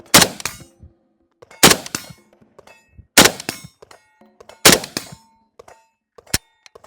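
Four loud rifle shots from an AK chambered in 7.62x39 with iron sights, each followed by a bright ringing clang of a struck steel target, evenly spaced about 1.5 seconds apart, then a final sharp ping.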